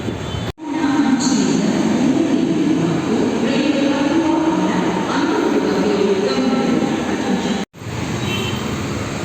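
Inside a moving metro train, a loud, steady low rumble of wheels and carriage fills the space, with faint squeals and two abrupt brief drops in sound.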